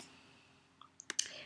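A computer mouse clicking a couple of times, short sharp clicks close up in a quiet room, following a faint whisper of breath.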